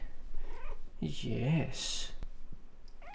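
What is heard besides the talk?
cat purring and meowing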